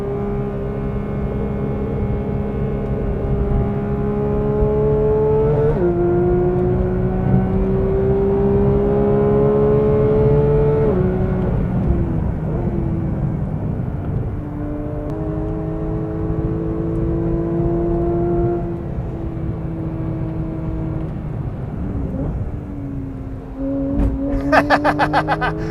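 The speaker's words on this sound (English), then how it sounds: "The sound of 6 individual throttle bodies." A 2022 Porsche 911 GT3's high-revving engine with six individual throttle bodies pulls hard through the gears on track at Road Atlanta, its pitch climbing steadily then dropping at each shift, loud and continuous with some wind and road noise.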